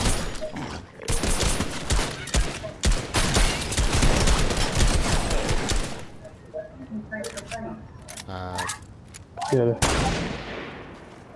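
Dense rapid gunfire in Fortnite, loud volleys of shots for about six seconds, then scattered shots and a final burst, with players talking over it.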